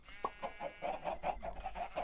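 Chickens cluck in the farming video game Ancient Kingdoms, a steady run of short rhythmic clucks repeating about every quarter second, fairly quiet and close, with no speech.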